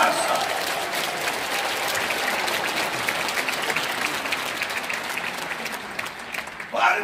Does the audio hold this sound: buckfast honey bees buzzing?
no